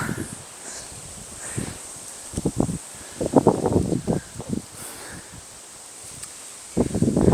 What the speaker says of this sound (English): The wind's picking up a bit.